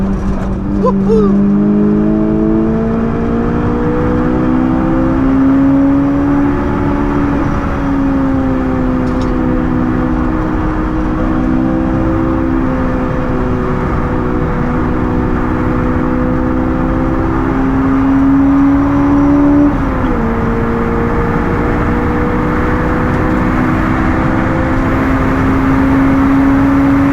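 A Honda S2000 engine drones steadily under load on the Nürburgring, heard from inside the car, its pitch climbing slowly and dipping briefly twice as the revs change, loud and continuous throughout.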